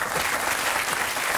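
A studio audience on a French TV talk show gives brief, dense, steady applause, close and continuous for the whole moment.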